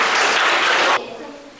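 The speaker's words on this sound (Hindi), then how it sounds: "एक जोरदार ताली होना चाहिए" A classroom of students clapping for a classmate during a Hindi dictation lesson: a short, loud burst of applause that stops abruptly after about a second.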